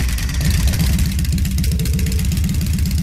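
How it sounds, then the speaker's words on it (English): A motorbike engine in Trails of Cold Steel runs with a steady, low, throbbing rumble that pulses evenly throughout, loud and close, with no voices over it. "Alright, going to start up the engine now."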